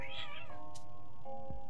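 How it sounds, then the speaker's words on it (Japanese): Cats meow loudly in short, tense cries as they fight, close by and alone, over the steady tones of a Splatoon 3 game. "猫がまた喧嘩しとる。"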